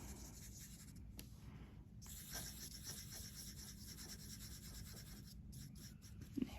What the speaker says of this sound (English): I have my Sharpie right here, so I'm just gonna draw a circle and fill it in.